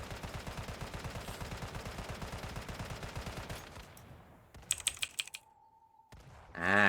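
Rapid automatic gunfire in the game Once Human, a fast even rattle of shots for several seconds, then a sharp burst and a thrown explosive's blast rising loud at the end.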